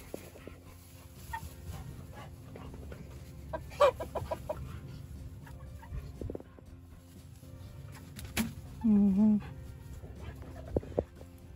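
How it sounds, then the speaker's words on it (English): Several roosters crow on a farm with sheep and cows, a strained crow standing out loudly near the end over steady barnyard noise and low background rumble, with occasional clucks. "Rooster. Guess I don't need to say it. There's 3."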